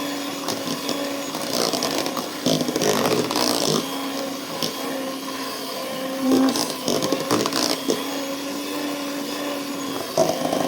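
An electric churn whips sour cream into butter, its motor humming and whirring steadily at moderate volume with uneven sloshing surges and small knocks.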